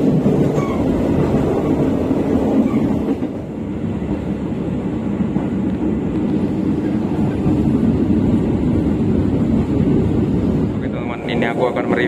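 Inside an economy car of the Mutiara Timur passenger train, a constant deep rumble and rattling of wheels on rails fills the space, steady and loud, with faint voices at times.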